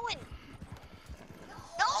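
A horse in the Red Dead Online video game gallops with steady rhythmic hoofbeats and gives a whinny at the start and again at the end, with the neighs loud and close over the pounding gait.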